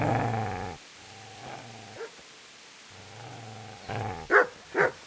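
Dog in the medieval video game Kingdom Come Deliverance, low sustained growls broken by a pause, then two sharp barks near the end, close and loud with no talking.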